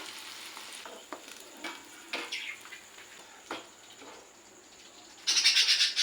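Stuffed bitter gourd fries in oil, a quiet steady sizzle with soft scraping stirs, then a louder crackling burst of frying near the end.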